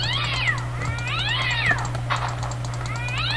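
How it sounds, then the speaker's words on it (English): A cat meows repeatedly in the Minecraft CrazyCraft 2.0 modpack, with three or four drawn-out, rising and falling cries over a steady low background hum. "Cat noises."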